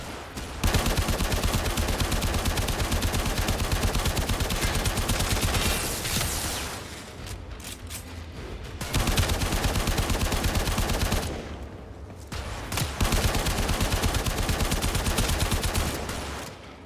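Rapid automatic gunfire in the video game Warframe, long dense bursts of shooting broken by two short lulls, loud and constant with no voices.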